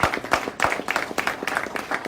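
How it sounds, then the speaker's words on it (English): A round of applause from a gathered crowd: close, sharp handclaps in quick bursts, uneven and lively, with loudness rising and dipping across the short span. "Give yourselves a round of applause"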